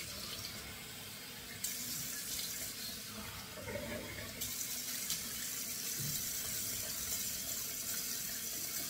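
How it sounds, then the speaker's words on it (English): Cold water runs steadily from a bathroom tap into a sink, a continuous broadband hiss, close and constant, with small shifts as the flow splashes. "Now it's time to turn the cold water on."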